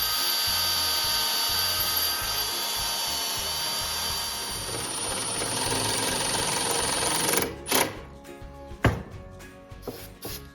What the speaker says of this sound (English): I'm going to drill that out and we're going to put a screw in there.